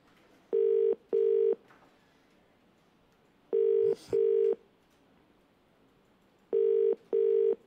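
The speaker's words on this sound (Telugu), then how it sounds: "కాల్ చేసింది, రింగ్ అవుతుంది, కానీ అటుపక్క నుంచి సమాధానం లేదు" A phone call goes through and rings out: three pairs of steady ringback tones at even intervals with quiet gaps between them, clear and alone.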